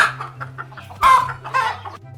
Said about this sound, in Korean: 닭이 계단에서 올라오는데